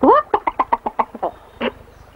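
A cartoon chicken in an animated film clucks in a quick run of about ten short, rhythmic clucks, loud and close, ending with one more squawk after a brief pause.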